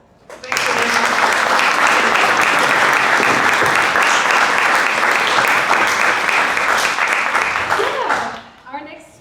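Sustained, dense applause from a conference audience fills the room for about eight seconds at full strength, then fades out quickly.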